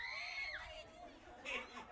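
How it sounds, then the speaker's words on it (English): Crowd screaming and shouting at a high school softball game between the Weslaco Lady Panthers and Lady Wildcats, a steady loud wash of voices with a surge toward the end. "there's screaming going on everywhere"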